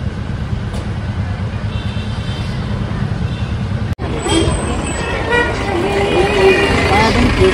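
Slow queued traffic on the road into Darjeeling, with a continuous engine rumble and a few short horn toots rising over it in the second half, the din loud and close.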